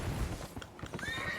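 In the video game Elden Ring, a horse snorts and whinnies over a quick patter of hoofbeats, short and close, with no talk.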